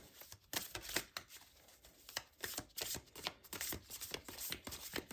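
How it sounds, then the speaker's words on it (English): An extra large tarot card deck is shuffled close up, giving repeated soft riffling bursts and papery slaps in an uneven rhythm, fairly quiet with no voices. "They're extra large, so they're really difficult to manage and shuffle, but we'll try."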